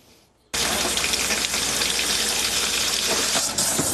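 Tap water gushes from a faucet, starting abruptly after a brief quiet moment, then holding as a steady, close hiss with small fluctuations.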